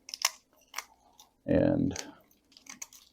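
Garden shears crunch through roots and soil while repotting and pruning a small portulacaria afra (dwarf jade) bonsai: one close, gritty half-second cut between stretches of quiet speech.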